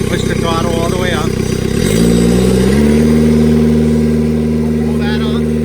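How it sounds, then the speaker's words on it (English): A Vermeer S725TX mini skid steer engine throttles up, its steady idle rising in pitch partway through and then holding a louder, higher drone, with voices talking over it near the start. "Push the throttle all the way up."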